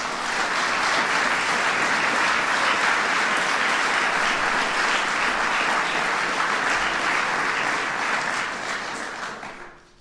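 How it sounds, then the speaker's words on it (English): Sustained loud applause from an audience at a political speaking event, dense clapping and cheering that holds steady for several seconds before fading at the end. "Please give them all a big round of applause."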